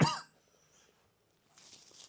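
A teacher gives a single sharp cough at the start of a science class. It is close and loud, followed by near silence and faint room noise.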